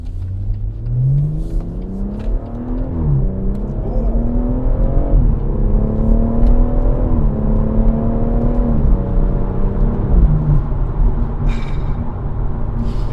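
A BMW M140i with an automatic gearbox accelerates with a rising engine drone, falling briefly at each upshift, then holds a steady cabin whir, close and fairly loud.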